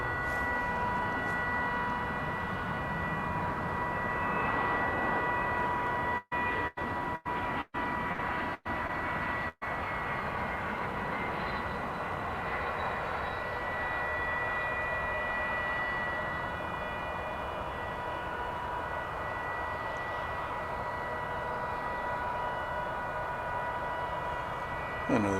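A plane landing on the runway at DFW Airport, a distant, steady roar of engines with tonal whine lasting throughout, broken briefly by a few sharp dropouts, and a faint voice in the background.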